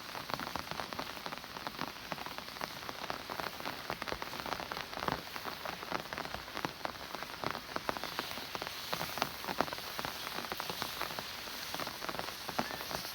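Steady, dense heavy rainfall patters on a surface nearby, a continuous hiss of countless drops with no voices.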